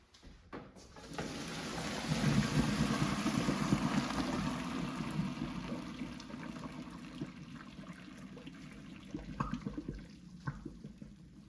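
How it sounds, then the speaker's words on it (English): Water from cooked whole wheat spaghetti pours and gushes steadily for several seconds as it drains, close by, gradually thinning toward the end with a few splashes and trickles. "I'm going to drain the water"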